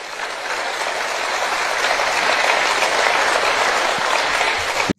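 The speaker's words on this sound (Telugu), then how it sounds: "చప్పట్లు కొట్టి జనాలందరూ జేజేలు పలికారు ఆయనకి" A large crowd claps together in dense, sustained applause that stays loud and even for several seconds, then cuts off abruptly.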